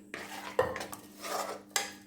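A spoon scrapes and clinks against a bowl while yogurt is stirred into spiced raita, giving a few sharp metallic taps amid soft wet mixing sounds, close and distinct.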